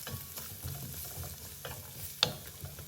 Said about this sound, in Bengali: এখানে আমি সব মশলা আর সাথে পেঁয়াজ দিয়ে দিয়েছি।